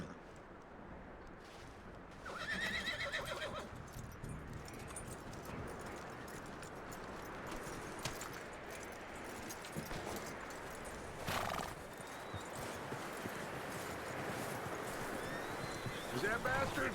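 In Red Dead Redemption 2, a horse whinnies and its hooves clop steadily along, with a continuous rushing ambience underneath.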